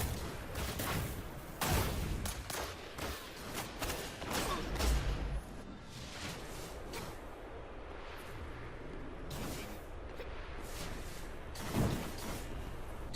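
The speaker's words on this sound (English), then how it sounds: "as soon as I see Evans on the radar and I pop my head out, he puts a bullet in it" Sniper and rifle gunfire in a Destiny 2v2 Skirmish match, with sharp repeated shots and impacts over a dense, continuous game soundscape, several louder bursts standing out near the start and end.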